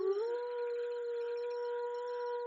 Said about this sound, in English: A piercing howl cuts through the cold silence of the night, followed by unnerving disquiet